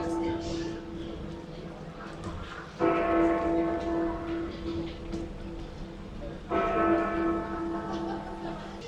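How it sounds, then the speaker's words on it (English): A large church-style bell in London rings the hour at four o'clock, two resonant strikes several seconds apart that hum and decay over steady street ambience. "Right, the bell's ringing."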